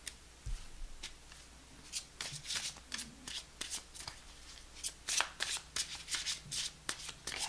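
Close, crisp riffling of playing cards being shuffled repeatedly, quick rhythmic bursts of flicking and tapping with no one talking.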